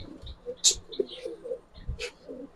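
Giribaz pigeons kept in a loft: soft low coos and brief chirps, some wingbeat-like flutters and scattered calls, close and moderately loud with no speech.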